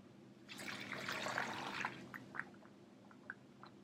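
Water poured from a cup into a Peter Pugger vacuum de-airing pug mill holding clay that is too dry: a short splashing pour, then a few scattered drips that fade.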